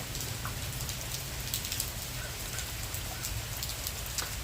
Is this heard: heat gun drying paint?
no